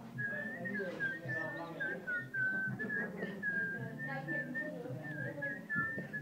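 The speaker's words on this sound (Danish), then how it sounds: "Og hør nu her, hvordan vi alle fløjte vil." A group whistles a Danish birthday song together at a grandmother's 67th birthday, a clear, continuous melody carried by several whistlers with soft voices murmuring underneath.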